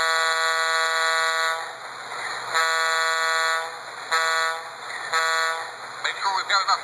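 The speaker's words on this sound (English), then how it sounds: "Now this is supposedly Alco PA sound. Here's the horn." A model Alco PA diesel locomotive horn from an S gauge train sound system sounds in several long, steady chord blasts with short breaks, loud and close, then breaks into choppier toots at the end.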